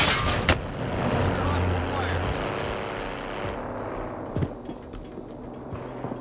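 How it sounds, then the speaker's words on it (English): Gunfire and explosive rumble from the video game Call of Duty: Warzone, a dense continuous roar with a few sharp cracks, which then fades while players talk over it. "Someone shooting us, on us."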